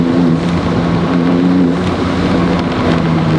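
Porsche 911 Turbo S of the 992 generation driving through a forest, a steady loud engine and road drone with turbo whine layered over it, continuous and close, no voices.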